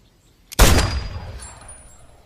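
A single loud gunshot from an action movie cracks out sharply and rings into a long fading echo tail, with no voices.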